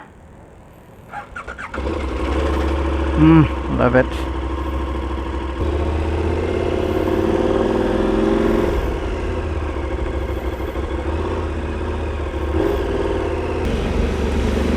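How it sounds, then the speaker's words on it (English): A motorcycle on a rainy, wet road cranks and starts, gives a couple of sharp revs, then settles into a steady, close idle rumble that lingers; a voice briefly speaks. "Let's hear that engine roar."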